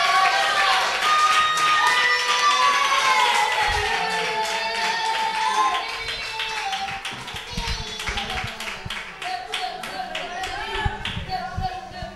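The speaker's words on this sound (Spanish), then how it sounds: "Un fuerte aplauso para nuestro amigo Josué." Clapping and cheering for a young player at an end-of-season ceremony for a UD Roteña youth football team, a lively mix of hand claps and excited children's voices that thins out after the midpoint.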